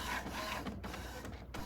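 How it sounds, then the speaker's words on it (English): An HP OfficeJet printer runs its alignment and prints a test page, a steady whirring mechanical drone with carriage shuttling and soft clicks, close and continuous without any speech. "it's going to try to align the printer as you see here, and it's going to go through its motions to print a test page out."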